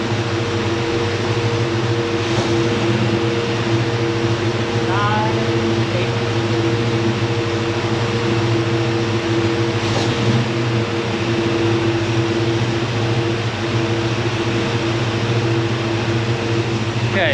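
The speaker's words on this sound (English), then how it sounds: "we'll go ahead and bring the idle RPM up just a little bit more" A Chevelle engine with an Edelbrock carburetor idles as a steady, even hum with a constant low drone and faint tonal whine, holding one level throughout.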